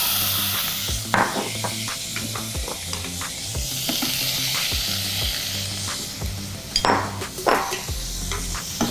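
Vegetables drop into a pan of hot ghee and grated coconut, then hiss and sizzle steadily, with stirring and clinks of utensil against the pan throughout, fairly close and loud.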